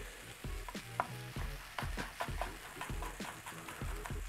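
Ginger sizzling and frying in a pan with spices for a curry paste, with a steady quiet sizzle under repeated rhythmic scraping and stirring strokes of a utensil.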